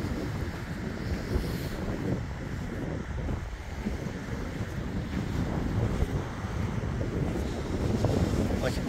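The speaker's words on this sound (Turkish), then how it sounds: "Dalga." Sea waves washing against the shore near the Great Belt Bridge, a steady broad surf roar mixed with gusting wind noise across the microphone, continuous and fairly close.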